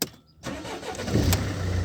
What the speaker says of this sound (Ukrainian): Ну, попробуємо за машину завести.